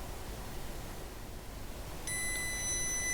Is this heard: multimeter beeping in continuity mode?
yes